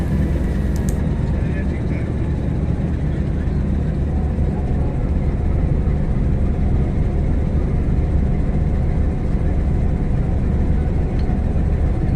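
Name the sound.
locomotive being coupled to the Bolan Mail train rake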